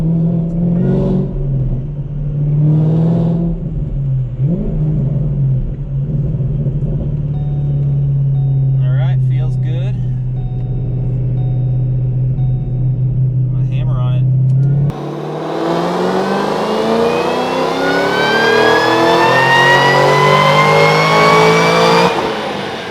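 A supercharged 2014 Ford Mustang GT500 idles with a steady low drone under talking, then revs hard on a dyno, its loud engine and supercharger whine climbing steadily in pitch for several seconds.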